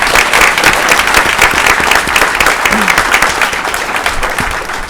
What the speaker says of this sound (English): And I think that deserves a huge round of applause.